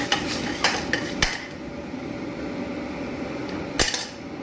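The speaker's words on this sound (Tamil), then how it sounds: "போட்டுட்டு நல்லா கலந்துக்கிடலாம்." A spoon stirs onion, tomato and spices with mint and ginger-garlic paste in a metal pot, giving sharp scraping clinks at irregular intervals over a soft background sizzle, close and alone.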